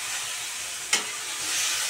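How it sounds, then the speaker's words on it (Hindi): Pasta stirred with masala in a hot pan on a home stove gives a steady close sizzle with soft scraping, broken by one brief sharp clack of the spoon midway. "मैं पास्ता डाल चुकी हूँ और इसको मिक्स कर रही हूँ।"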